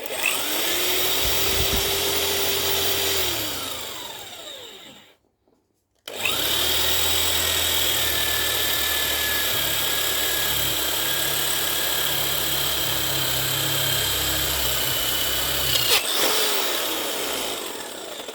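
A loud power drill whines steadily for several seconds drilling through wood, cuts out briefly, then runs again continuously at close range with no talking.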